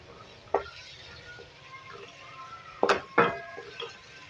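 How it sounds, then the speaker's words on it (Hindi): Chopped onions sizzling in a pan for a quick chicken dinner, a steady frying hiss under a few sharp clinks of a spoon against the pan, with brief murmurs of a voice. "नाजरीन हम ऑनियन को डाल के फ्राई करेंगे, हल्का सा कलर चेंज करेंगे इसको सॉफ्ट नरम करेंगे।"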